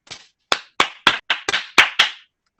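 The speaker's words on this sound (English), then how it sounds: "This is a hand clapping." Hands clap sharply about eight times in an uneven rhythm, each crisp smack loud, close and separated by short gaps of silence.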